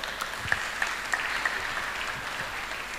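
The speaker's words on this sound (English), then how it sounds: "Yes, round of applause." Applause from the audience at a synagogue's 160th anniversary celebration in Pune, a steady, fairly soft wash of many hands clapping throughout, with a few sharper claps standing out.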